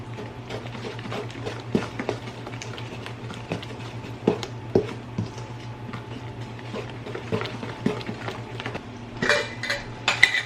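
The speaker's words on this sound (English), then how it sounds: "we're just going to stir that all together" Muffin batter with milk and vegetable oil stirred in a bowl, a spoon repeatedly clinking and scraping against the bowl in an uneven rhythm, close and fairly quiet, with a low steady hum behind and no talk.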